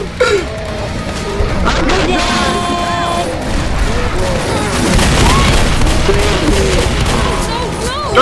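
Gunfire in the Left 4 Dead custom map Escape From Toronto, a dense barrage of shots and booms running the whole stretch, loud and close, with frantic players shouting over it.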